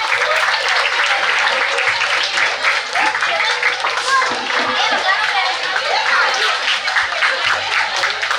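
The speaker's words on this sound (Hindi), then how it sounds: "उनको दिल से हम वेलकम करते हैं तालियों के साथ" Audience applause from students welcoming Dr. Shyam Sundar Advani at a certificate distribution ceremony at a vocational center, sustained crowded clapping mixed with children's voices and cheering, steady and fairly loud throughout.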